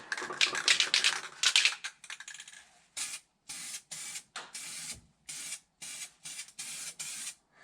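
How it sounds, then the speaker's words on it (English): Spray can laying a light coat of SEM seam sealer on a car floor pan, first a longer rough hiss and then a string of short, evenly spaced bursts with brief silences between them. "So let me start spraying it."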